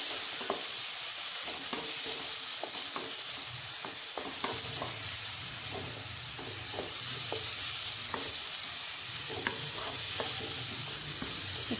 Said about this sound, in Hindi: इसको अच्छे से थोड़ा हमें ब्राउन होने देना है। हमारा प्याज, लहसुन, प्याज, हरी मिर्च सारे पक जाएं।